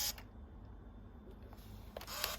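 A Canon Autoboy Jet film camera fires in continuous shooting mode, giving quiet, close clicks and a brief motor whir in a run of rapid frames.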